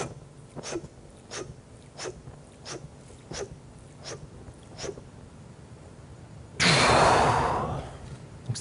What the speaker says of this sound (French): Donc on commence par la dernière inspiration